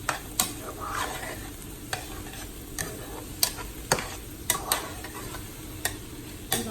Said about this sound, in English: I also added in my sausage, and I'm letting that cook a bit.